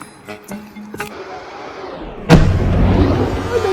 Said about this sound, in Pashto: پټ شئ ډزې کوي